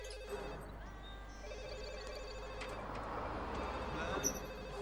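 A telephone rings in The Sims Bustin' Out video game, a faint repeating electronic ring under quiet game ambience and music, with some talking mixed in.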